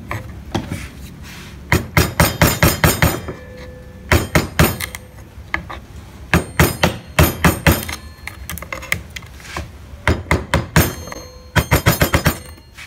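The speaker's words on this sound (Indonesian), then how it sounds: "bagian ini kita jorokkan ke dalam menggunakan pahat penguku ya" Gouge chisel struck repeatedly with a hammer while carving a barong motif in wood, giving bursts of sharp close knocks in quick runs separated by short pauses.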